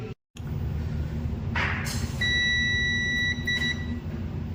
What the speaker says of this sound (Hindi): बजर मोड में मीटर को सेट करके कि बीप का साउंड आ रहा है कि नहीं आ रहा